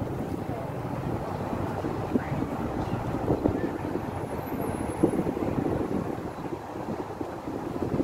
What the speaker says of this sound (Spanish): hay una brisa bien rica